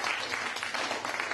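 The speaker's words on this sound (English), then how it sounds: "Let's get some clapping going." An audience claps together in a room, a steady dense patter of many hands that holds at an even level throughout with no voices on top.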